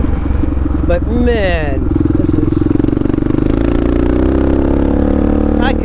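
A Honda XR650R supermoto's single-cylinder engine thumps loudly and continuously while being ridden, a close rhythmic pulse with a rise in revs, as the rider talks briefly over it.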